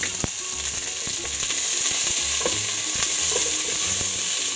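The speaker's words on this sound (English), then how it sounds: "So the onions and garlic has been nicely sauteed" Chopped onions and garlic sautéing in cooking oil in a pan, a steady close sizzle with a few stirring scrapes and clinks, no talking.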